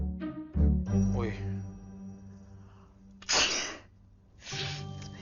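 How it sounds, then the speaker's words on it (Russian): A woman sneezes twice in sharp, forceful bursts, with talking and vocal sounds around them. "Чихать я прекратила только на время, а вот опять снова началось."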